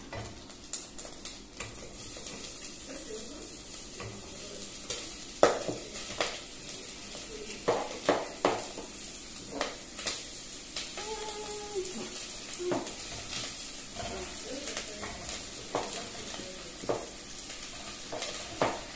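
Onions frying in a pan under a soft, continuous sizzle, with a spatula or spoon knocking and scraping in irregular taps throughout, close but quiet.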